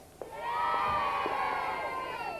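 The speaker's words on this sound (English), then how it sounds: "Give us a big cheer if you're a pirate!" An evening crowd answers a call to cheer, swelling quickly into a sustained mix of shouts, whoops and children's high yells after a short lead-in, loud and held for about two seconds.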